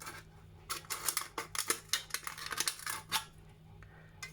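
Scissors snip through a thin tin can, cutting strips down its side, producing a run of sharp, close metallic crunches and clicks in irregular bursts, then a brief pause and one last snip.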